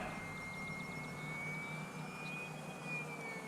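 A small UMX Pitts S RC model airplane glides throttled down during its maiden flight, a faint, steady distant motor whine with a slowly shifting pitch that carries on without a break and with no talk.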